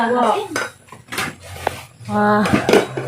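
A metal kawali, the pan used for litson kawali, clatters and scrapes in a sharp, rhythmic series of clanks alongside cutlery, with voices talking around the handling.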